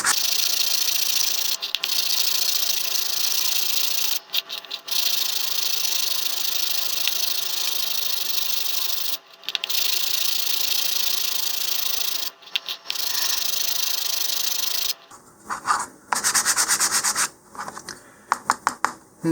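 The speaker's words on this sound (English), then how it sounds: "I'm going to first start with some 150 grit sandpaper and just do a little sanding" Model rocket tabs on an Apogee Katana Jr kit are sanded with 150 grit sandpaper in close, continuous rasping strokes. Brief pauses break the rhythm, and a few quieter, irregular scrapes come near the end.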